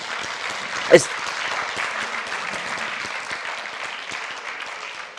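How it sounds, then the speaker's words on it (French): Church congregation applauding steadily and at moderate volume, a broad even wash of claps filling the space for about five seconds, with one brief louder knock or thump near the start. "Tous ces applaudissements vont à Jésus"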